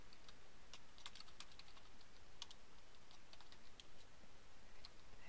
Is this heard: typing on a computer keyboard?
yes